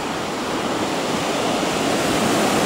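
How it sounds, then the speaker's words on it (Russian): Sea waves breaking on the shore at Lazurnaya Bay (Shamora), Primorsky Krai, a steady loud broadband wash of surf with no pauses, mixed with a little wind. "Волны хорошие, конечно."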